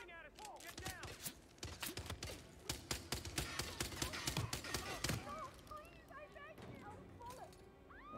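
Rapid, sharp gunfire bursts from weapons in the Hitman VR video game, crackling in dense clusters with some brief pauses, while a voice talks intermittently underneath.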